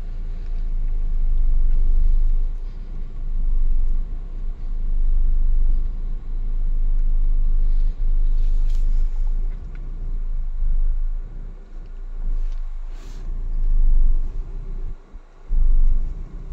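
A vehicle's engine rumbles low and loud while driving along, a continuous throaty drone with shifting bumps and road noise, no voices.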